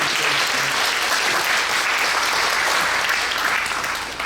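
Congregation at a church inauguration worship service gives a loud, sustained round of applause, dense steady clapping filling the whole stretch without talk over it.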